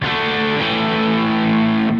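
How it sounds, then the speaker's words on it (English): Electric guitar chords ringing through a Nobels ODR-1 overdrive pedal, thick and sustained, played alone without any talking. "I turn on my Nobels ODR1 distortion."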